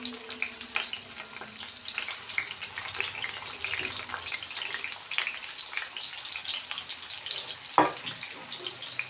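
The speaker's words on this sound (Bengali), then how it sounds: "এবার পেঁয়াজগুলো দিয়ে দেব।" Onions frying in oil in a pan while a Mughlai roll filling is made, a steady soft sizzle throughout with a brief clatter near the end, no talking.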